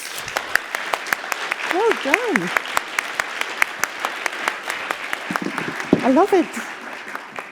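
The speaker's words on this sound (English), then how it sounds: "so applause!" An audience at an open-mic education conference session breaks into applause, with sharp, scattered hand claps running throughout while a person speaks over them.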